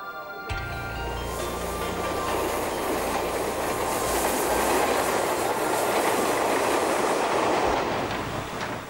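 Passenger train of the Chinese state railways heard from inside a dining car: a steady loud rumble with rhythmic clickety-clack of wheels on rail joints and faint squeals throughout, no voices.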